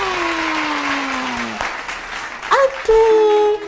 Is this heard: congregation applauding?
yes